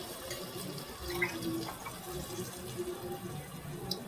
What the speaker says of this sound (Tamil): இப்போ 3 டம்ளர் தண்ணி ஊற்றிக்கலாம்.